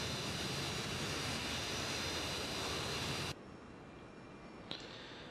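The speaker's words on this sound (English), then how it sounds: "The aircraft that we're flying today is the classic Boeing 727-200" Steady broadband roar of Boeing 727-200 jet engines in Flight Simulator X, loud and unbroken for about three seconds, then dropping to a quieter hiss with a brief click near the end.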